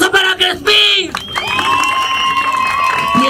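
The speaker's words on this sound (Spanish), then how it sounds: "¡Aplauso para Crespín!" A live show audience of children and adults cheers and shouts, a loud burst after a quick call from a host, then high, sustained whoops and a crowd roar, with some applause underneath.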